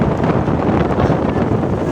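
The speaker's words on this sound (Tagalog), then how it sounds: "Lakas ng hangin, lakas ng alon" Strong wind roars across the microphone in a steady, heavy rush on the Pacific Ocean, with the churning wash of big sea waves beneath it.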